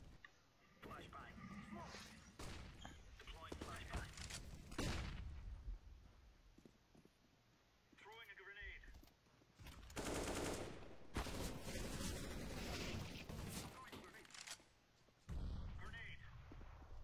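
Counter-Strike gunfire from a first-person shooter game, with rapid bursts and single shots popping in irregular clusters, fairly faint, mixed with people talking.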